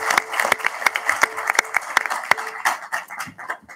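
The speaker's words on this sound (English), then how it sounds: "round of applause for you" Audience applause at a board planning meeting, a small group clapping with distinct sharp claps and a few loud individual hits, tapering off near the end.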